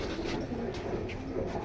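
A pair of caged pigeons sold as stock birds coo softly and low under a dense, continuous background hum, with a faint tonal call drifting in and out.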